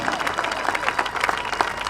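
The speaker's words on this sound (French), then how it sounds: "Acclame très fort pour la gloire du roi des rois." A church congregation at a night prayer vigil applauds loudly, a dense, continuous patter of many hands clapping together with a few voices mixed in.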